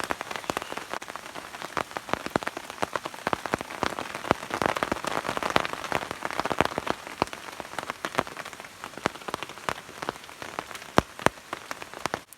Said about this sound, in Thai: ฝนมาหนักเลยครับ ตอนนี้ต้องอยู่แต่ในที่พักนะครับผม